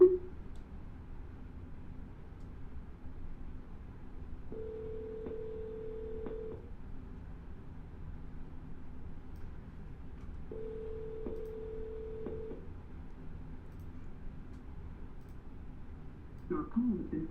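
A telephone call is dialed and rings out, with two steady ringback tones each lasting about two seconds, separated by a stretch of line hiss, at moderate level with no talking.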